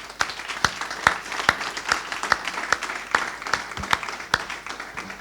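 An audience at a book launch applauds steadily, a dense patter of many hands with a few louder individual claps standing out, sustained for several seconds at moderate distance.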